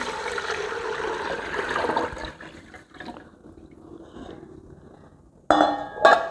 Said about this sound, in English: So I'm just going to pour it all in.